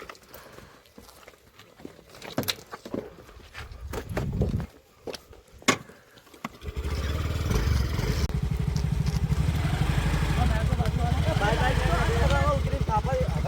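A motorcycle starts up after a stretch of clicks and knocks, then keeps running at a steady, close idle for the rest of the time while people talk over the engine.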